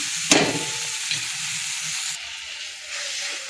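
Onion, tomato and mushroom masala for an Odisha-style curry is stirred in a hot pan. A sharp scrape comes early, then a steady sizzle with softer spoon movements, close and unaccompanied by speech.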